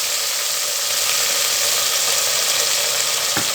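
Onion, green chilli and coriander sauté in a pan, giving a steady, loud, continuous sizzle that holds evenly throughout with no talk.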